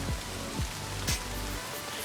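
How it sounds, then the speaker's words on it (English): Rain patters steadily in the golf video game Everybody's Golf Hot Shots, a soft continuous wash with a few low thuds recurring about every half second beneath it. "And it's raining."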